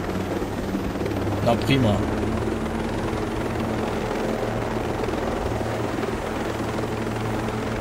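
A helicopter in the video game Ghost Recon Breakpoint drones with a steady, dense rotor roar that fills the whole stretch, with a brief spoken remark near the start.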